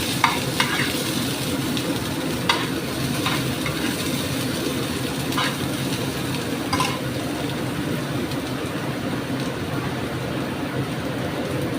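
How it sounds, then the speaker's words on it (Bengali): Steady, dense sizzling of chopped onion and cumin seeds frying in hot oil, with brisk stirring and occasional scrapes of a utensil in the pan, close and continuous. "দিয়ে একটা মাঝারি পেঁয়াজ কুচি, দিয়ে খুব ফাস্ট নাড়বো"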